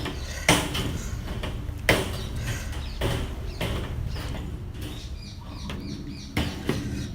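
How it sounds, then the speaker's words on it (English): Wire mesh for a hanging rabbit cage being cut in a straight line, a series of sharp snips and metallic clicks recurring every second or so over steady background noise. "all you're going to do is cut in a straight line all the way down your piece of wire until you've separated that 30 inch piece"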